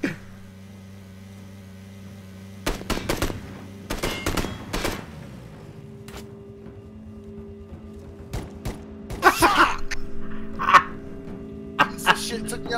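Gunfire is aimed at a vehicle in PUBG: scattered bursts of sharp shots, some rapid clusters and single cracks, over a steady low engine hum.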